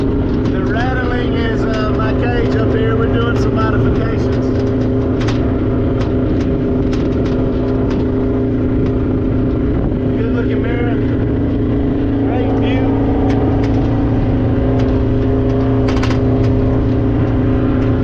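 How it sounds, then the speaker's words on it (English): A Polaris Ranger with a modified cage rattles as it drives, its steady engine drone running throughout with loose metallic clatter on top, and a voice talks over it. "The rattling is my cage up here."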